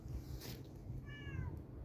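Hungry cats meow nearby, with one clear, short meow rising and falling over a steady rumbling background hum.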